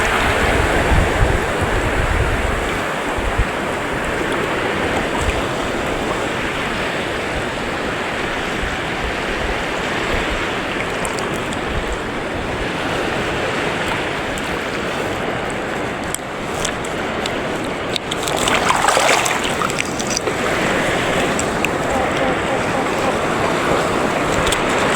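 Strong ocean surf crashes and rushes continuously, loud and close, with wind buffeting the microphone, heard by a shoreline angler fishing in heavy waves.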